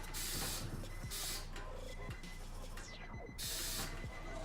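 A car's air suspension airs out, venting with sharp bursts of hissing air release broken by short pauses and faint clicks, close and fairly quiet with no talk.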